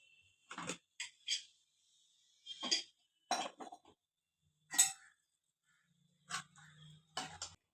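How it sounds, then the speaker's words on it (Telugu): The lid of a pressure cooker holding cauliflower curry is worked open in a quiet kitchen: a series of sharp, separate metallic clinks and clicks with short pauses between them. "ఇప్పుడు మూత తీసి చూద్దాం."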